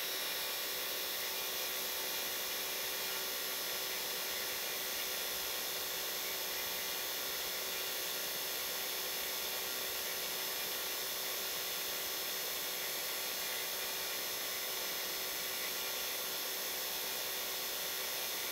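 A Navac 4 CFM vacuum pump runs hooked up to a small CU152 cuber ice machine, a steady, loud, unbroken hiss and whir that holds constant throughout without talk.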